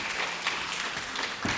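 Brief applause from a conference audience after a talk, a short burst of scattered claps at moderate, somewhat distant level.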